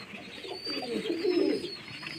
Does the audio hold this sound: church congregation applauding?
no